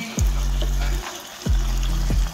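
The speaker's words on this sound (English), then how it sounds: "while your meat finishes its browning process" Pork meat browning in a hot pan for egg rolls, a loud, close, steady sizzle and crackle, with low rumbling thumps from the pan moving on the stove and no talk.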